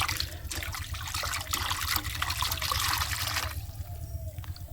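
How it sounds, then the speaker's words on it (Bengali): Brahmi greens being washed by hand in water, continuous sloshing and splashing up close that thins to a lighter trickle near the end. "এইবার দেখো জল দিয়ে ভালো করে ধুয়ে নেওয়া হলো"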